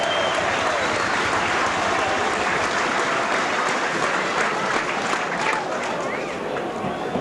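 Halifax crowd applauding a departing player at a 1986 Halifax v Warrington rugby league match, a steady, dense wash of clapping filling the whole stretch with crowd noise.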